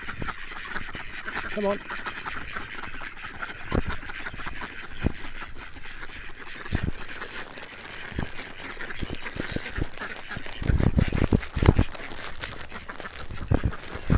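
Ducks quack in short bursts out in the open, mixed with the crunch of footsteps on slippery ground and loud handling noise close by, while a person talks now and then over the birds.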